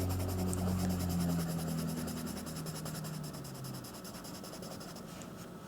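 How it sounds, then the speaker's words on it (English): Pencil scribbling on paper, a steady scratchy rubbing that continues without pause, close up, with a low hum underneath and no talking. "So let's just have a scribble."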